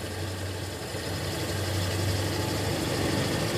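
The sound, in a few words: Toyota Kijang Krista engine idling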